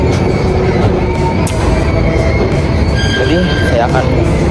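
A train at Cikarang railway station in Indonesia, on the local Walahar commuter line to Purwakarta, rumbles steadily with faint wheel squeal and an announcement-like tone in the station, as someone talks over the noise.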